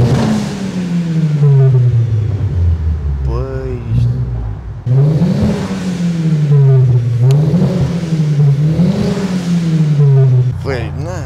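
A 2003 car with a 400-horsepower engine idles with a deep, steady rumble and is revved several times, each rev swelling and falling back, heard up close with someone talking over it.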